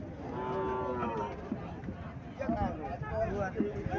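A native cow moos once in a long low call beside a Sahiwal-cross bull calf in a Comilla cattle yard, followed by shorter lowing sounds under nearby talking.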